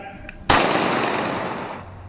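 A handgun goes off accidentally during careless unloading: one sharp, loud shot cracks out after a brief quiet moment, followed by a long, fading echoing tail.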